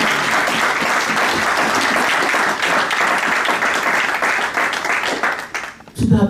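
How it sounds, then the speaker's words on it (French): A church congregation bursts into loud, sustained applause, dense clapping and cheering filling the room for several seconds before fading out abruptly near the end. "Est-ce que tu peux acclamer la parole de Dieu?"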